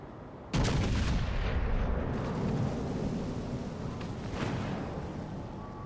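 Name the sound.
naval guns firing HE shells in video game World of Warships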